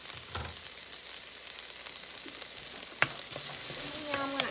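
Three cloves of garlic drop into a pan of tenderized onions, setting off a soft, steady frying sizzle with light stirring scrapes and a sharper clink near the middle, nearby and fairly quiet.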